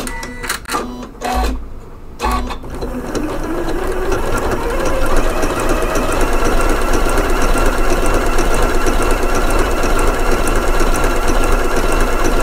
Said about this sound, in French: je vais vous faire une belle surpiqûre